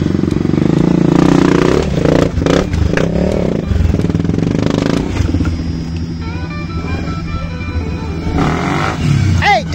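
A loud enduro motorcycle engine revving hard nearby during a hard enduro race, rising and falling with clattering and scraping, muffled voices faintly underneath.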